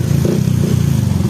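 A Sniper 150 motorcycle engine with an overheating problem and a faulty radiator fan idles up close. It gives a loud, steady, throbbing drone with no talk.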